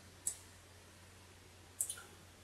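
A computer mouse clicks twice at close range in a quiet room on a Windows PC, a single sharp click followed by a quick double click about a second and a half later.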